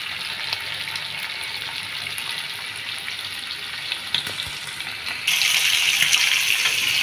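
Whole hilsa fish fry in a pan with a continuous close hiss and sizzle, a brief knock midway, then a sudden louder, brighter surge of frying near the end.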